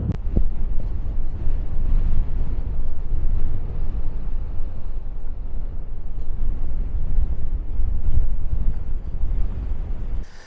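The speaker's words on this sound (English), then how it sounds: "It is quite breezy up on this hilltop. It's quite a windy day actually today" Strong, steady wind gusts buffet the microphone on a breezy hilltop, a continuous loud low roar with no voices.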